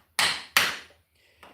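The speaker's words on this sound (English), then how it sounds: "Use a mallet of some sort when setting these" A mallet strikes a tomahawk handle to seat the head, two sharp, close knocks about a third of a second apart, then a softer third tap after a pause.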